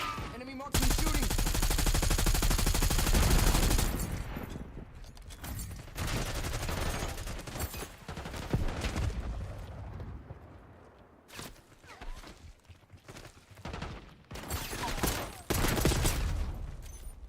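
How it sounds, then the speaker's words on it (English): Rapid bursts of automatic gunfire from an enemy marksman in a first-person shooter video game, loud and dense at first, then continuing in sporadic volleys with faint talk in the background. "Enemy marksman shooting."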